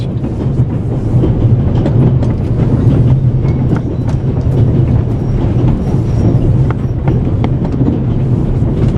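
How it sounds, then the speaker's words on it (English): Train noise aboard the Orient Express in the video game The Raven: a steady loud rumbling roar of a moving carriage with faint rattles and clicks, continuous throughout without talk. "The noise on this train is driving me crazy."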